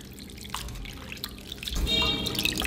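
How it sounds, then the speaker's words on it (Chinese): Shredded raw pork is rinsed in a bowl of clean water, with faint drips and light splashing close by, growing a little busier toward the end. "肉丝切好之后，加入清水清洗干净"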